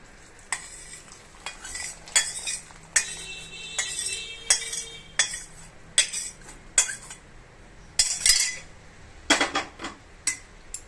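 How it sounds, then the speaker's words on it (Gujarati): A mixture gets stirred into sugar syrup in a pot over a low gas flame, a spoon scraping and clinking against the metal in repeated bursts with a faint sizzle beneath, close and alone. "આને ખૂબ સારી રીતે આપણે હલાવી લઈશું."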